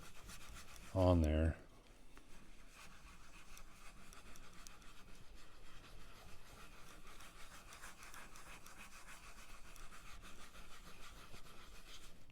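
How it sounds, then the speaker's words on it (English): A scouring pad rubs Odie's Oil finish into wood grain with a soft, steady scratchy rasp that runs throughout, after a short spoken phrase near the start. "that texture of the scouring pad really helps you to get it down into all that grain"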